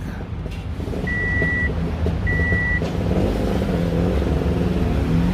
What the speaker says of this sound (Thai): ตอนนี้สตาร์ทเครื่องยนต์ เป็นไฮบริด